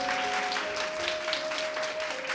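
Steady, dense applause fills the room for the parish priest at a church gathering with children. The clapping is continuous and fairly close, with a faint sustained tone underneath and no talking.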